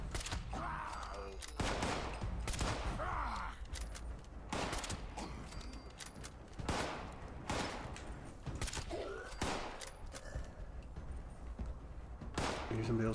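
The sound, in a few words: gunfire in a video game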